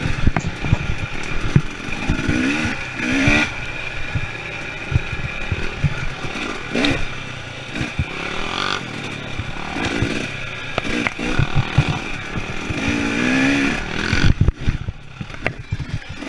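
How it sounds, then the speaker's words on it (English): Honda XR400 and KTM 300 XC dirt bikes ride trails at Evart and Tin Cup, their engines droning and revving close by with constant wind buffeting, through a loud, busy, unbroken stretch. "what it's like to ride these bikes through the trails"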